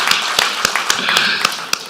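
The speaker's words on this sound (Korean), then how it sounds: "일단 박수로 한번 쳐드려버려" Congregation clapping at a Korean church's Sunday evening service: crisp, rhythmic, fairly loud claps in a steady beat, with light background noise.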